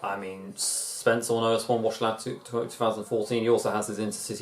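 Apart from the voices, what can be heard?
None of the usual background noises is heard.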